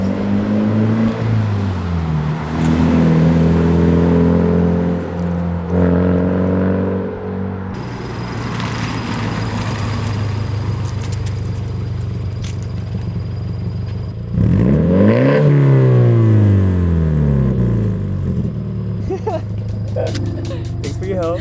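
A Subaru BRZ fitted with a Tomei exhaust revs and accelerates nearby, its loud, steady engine drone rising and falling, with a sharp rev sweep near the middle and no talking.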